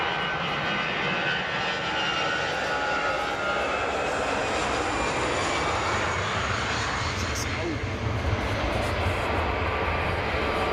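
A Condor Boeing 757 with big high-bypass turbofan engines at Frankfurt Airport produces a continuous, loud engine roar with a strong low rumble that stays steady throughout.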